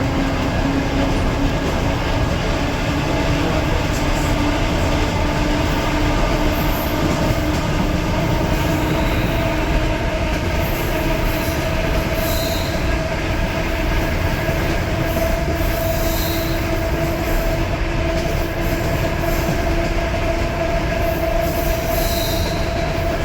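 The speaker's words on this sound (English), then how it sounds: "The reason why I love this interurban so much is because of the sheer noise that this thing makes" An interurban electric railcar running at about 40 miles an hour, a loud, continuous roar of wheels on rail with a steady motor whine and occasional high squeals, heard from on board.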